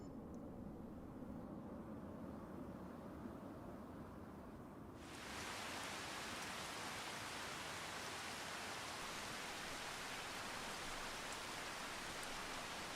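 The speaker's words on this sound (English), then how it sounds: "Waking up in the rain, not the best, but, you know, got to rain at some point" Steady rain in the farming video game Farming Simulator 25, a soft hiss that suddenly swells into a louder, brighter downpour partway through and keeps pouring evenly, with no voices.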